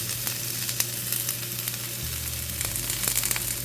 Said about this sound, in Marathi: आता ह्यामध्ये मी घालत आहे सुके खोबऱ्याचा कीस.